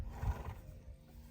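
Horses in a mare and filly herd on a farm; a short, fairly close whinny rises and fades over a low rumbling background, with no talking.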